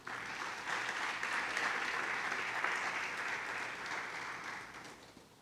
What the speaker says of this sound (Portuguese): Você pode dar um aplauso ao Senhor aí ou não?